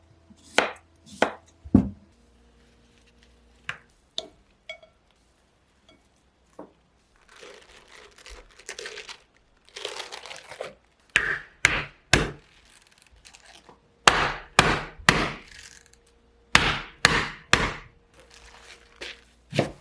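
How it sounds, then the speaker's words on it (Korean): A knife slices radish thinly on a cutting board, producing sharp, close chopping taps in irregular clusters, sparse at first and then quicker runs of strokes. "무는 먹기 좋은 크기로 얇게 썰어줄게요."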